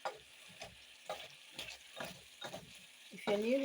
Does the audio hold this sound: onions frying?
yes